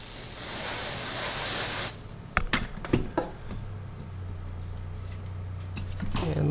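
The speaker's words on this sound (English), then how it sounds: "so let's freeze spray" Freeze spray blasted onto an iPhone 7 circuit board, a loud, close, hissing burst lasting about two seconds, then a few sharp clicks and handling taps in a quiet room.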